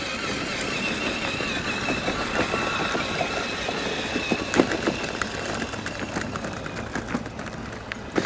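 A large 1000W RC crawler driving outdoors, its electric motor whirring steadily with scattered knocks and rattles as it crawls over terrain, continuous and mid-distance.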